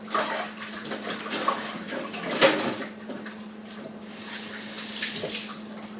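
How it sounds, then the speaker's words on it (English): Water from a kitchen tap runs steadily while hands are rinsed beneath it, a continuous moderate splash with a brief louder gush midway, close by with no talking. "I'm going to rinse my hands off"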